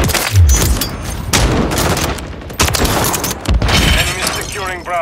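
A grenade explosion in Call of Duty multiplayer, loud and close, amid sharp shattering bursts, rapid gunfire and clattering debris over about five seconds, with brief pauses between volleys and radio-style voices calling out over the combat.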